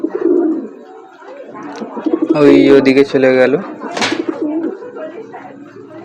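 Pigeons from a family rooftop loft cooing nearby in several soft, throaty bursts, heard alongside people talking.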